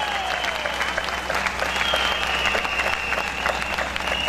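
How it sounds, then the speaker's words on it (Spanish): A large crowd at a political gathering applauds warmly, sustained dense clapping with a faint voice or tone lingering beneath. "un aplauso para esta comandante combatiente"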